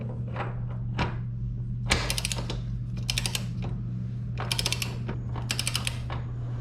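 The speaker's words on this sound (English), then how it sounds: "set your torque wrench to 100 Newton meters, and torque it down" A torque wrench tightens the axle nut on a 2020 BMW S1000 RR, giving bursts of quick, crisp ratcheting clicks separated by short pauses, close and clear over a low steady hum.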